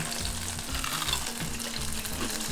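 Onion rings deep-frying in hot oil in a fryer, a steady close crackling sizzle with a low humming drone underneath, no voices.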